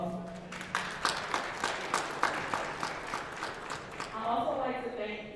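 Scattered clapping from a small crowd, steady and moderately loud, tapering off as a voice starts speaking near the end.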